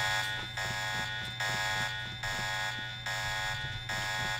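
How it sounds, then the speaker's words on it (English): Electronic alarms blare in Deus Ex Revision, a loud, steady buzzing tone that pulses in a regular rhythm about every second and a half, with no talking. "Great, now all the alarms are on."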